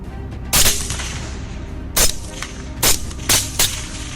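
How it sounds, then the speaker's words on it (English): Several sharp gunshots crack out during a wild boar hunt, one near the start, then a spaced cluster of three or four, each a loud broadband burst over a low rumbling background. "every few minutes, gunshots rang out, signaling that more wild boars had been taken down"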